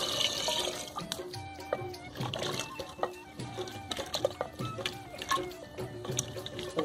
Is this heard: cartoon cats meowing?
no